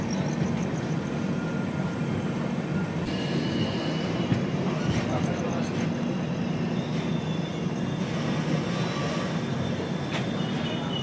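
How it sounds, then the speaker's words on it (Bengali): The Brahmaputra Mail (train 15658) runs steadily from Assam toward West Bengal, a continuous rumbling rattle of wheels and carriages with occasional higher metallic squeals, heard close and without talk. "ট্রেনটি নির্ধারিত সময়ের থেকে 1 ঘন্টা 30 মিনিট দেরিতে চলছে।"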